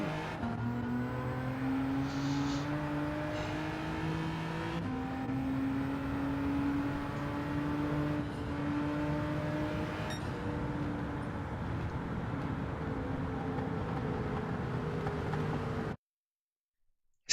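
Silvia touring car engine in Gran Turismo 7 revs steadily through gears, a sustained buzzing drone with rising pitch sweeps and brief dips at each shift, then abrupt silence at the end.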